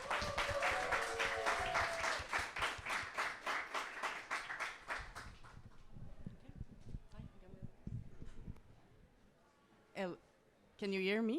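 An audience claps to welcome two speakers at a talk, a dense burst of applause that thins out and fades over several seconds before a voice briefly speaks.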